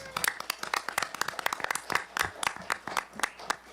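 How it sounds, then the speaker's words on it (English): Audience at a board of education meeting clapping for upcoming graduates, a lively, fairly close round of applause with sharp, uneven claps throughout. "Can we give them a round of applause?"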